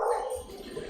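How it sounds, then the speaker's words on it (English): Dog barking indoors, a single short sharp bark at the start trailing into quieter whimpering sounds. "is this one barking over here, Miss Dolly."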